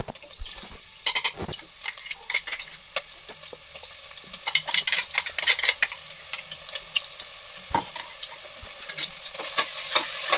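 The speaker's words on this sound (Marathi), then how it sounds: "त्या 2 चमचे तेलामध्ये डायरेक्ट मी आलं लसणाची पेस्ट आणि आपण केलेलं कांदा खोबऱ्याचं वाटण हे मी डिरेक्टली टाकलेलं आहे आणि ते मिश्रण परतून घेतलेलं आहे" Ginger-garlic paste and an onion-coconut masala sauté in hot oil for mutton sukka, giving a soft continuous sizzle broken by sharp crackles and scraping stirs, close up with no talking.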